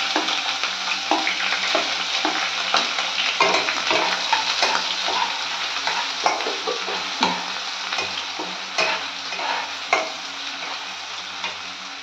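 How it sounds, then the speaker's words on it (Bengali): Onions sizzle steadily in hot oil in a pan, with repeated scraping clinks of a spatula stirring them, close and continuous without any talk. "এখানে পেঁয়াজটা হয়ে গেছে একটু লাল লাল করে ভাজা।"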